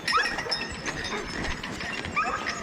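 Sled dogs at a dog sledding outing in Alaska whimper and yip in high, thin whines, several dogs close by, with outdoor rustling and jingling in the background.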